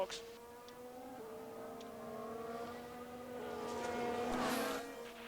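A Formula 1 race car in the F1 Manager 22 game at Suzuka drones steadily as it enters the pit lane, its engine tone shifting and swelling louder toward the end.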